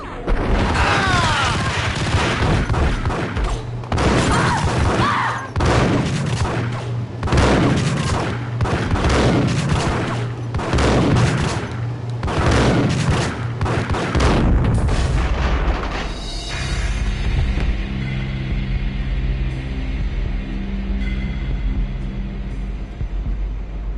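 Gunfire in Max Payne during a shootout with the hustler Rico Muerte: rapid, loud shots in repeated bursts for about fifteen seconds, then a low rumbling backdrop with ringing tones as the shooting stops.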